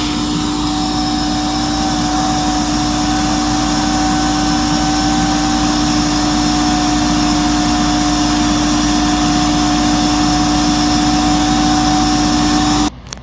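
Tristar CXL two-speed vacuum cleaner running steadily with its exhaust cap removed, a loud continuous motor whine with a strong steady hum that holds without a break until it cuts off at the very end.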